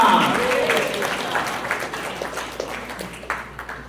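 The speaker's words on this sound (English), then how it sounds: "Give a thunderous applause for the youth." Audience applause for youth drama performers at a Janmashtami festival gathering at a Hare Krishna temple, clapping that starts strong and gradually tapers into scattered claps.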